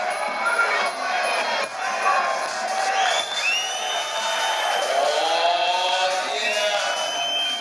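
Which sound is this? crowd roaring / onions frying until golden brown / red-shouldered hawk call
crowd roaring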